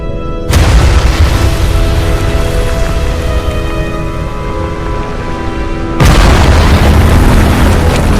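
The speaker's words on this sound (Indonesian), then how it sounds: "Terjadilah sebuah peristiwa dentuman besar atau Big Bang" A huge sudden boom evoking the Big Bang erupts, rolling on as a dense, sustained rumble before a second powerful blast hits; loud, with no voices.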